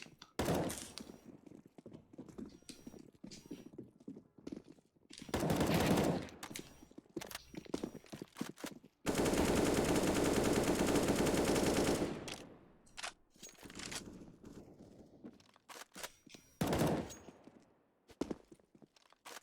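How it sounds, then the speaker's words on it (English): Counter-Strike gunfire from an AWP sniper rifle and AK-47 rifles during warm-up before a match, heard as several short bursts of rapid shots and one sustained loud volley, with quieter footsteps and clicks in between. "We may see the catcher is warming up with the AWP, and the Boogie and the Blunt both with the AK-47"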